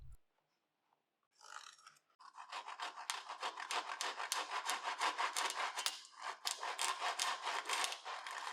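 A hand saw cuts stub tenons in wood, giving close rhythmic rasping strokes that start after a brief quiet moment and continue steadily.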